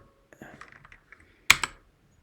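A computer keyboard typing code for a Rust programming exercise: a short cluster of soft, close key taps ending in one louder sharp press, with no talk during the keystrokes.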